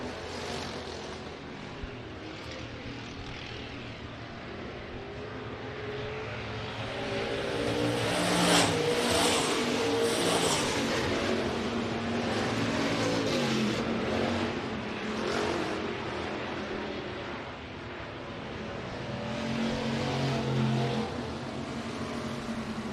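Race cars lap the Rapid Speedway track with a continuous engine roar, swelling and fading as cars pass and rev through the corners, at moderate distance with no talk over it.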